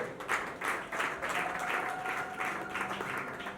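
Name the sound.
congregation applauding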